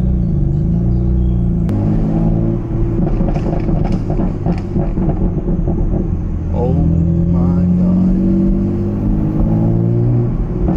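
A tuned BMW M3 engine revs with its exhaust valves opened, a loud, deep rumbling drone rising and falling through several throttle blips, with a person briefly speaking over it.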